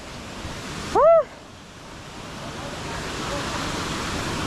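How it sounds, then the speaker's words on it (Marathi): A waterfall near the Kondeshwar temple outside Pune sends up a steady, broad rushing roar that fills the whole stretch, with a short vocal call rising over it near the start. "तो धबधबा समोर आहे"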